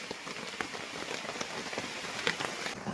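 Heavy rain falls in a forest, a dense and even patter of drops with scattered sharper hits on leaves, continuous and without voices.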